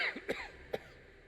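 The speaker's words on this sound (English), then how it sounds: "How long have you had that cough?" A short, quiet cough of two or three hacking bursts from a single person, close by, with nothing else around it.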